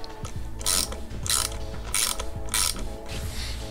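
A ratchet tightens a safety nut on Kawasaki Versys 1000 motorcycle handguards, a loud close-up clicking pawl in four rhythmic back-and-forth strokes with gritty mechanical whirring between.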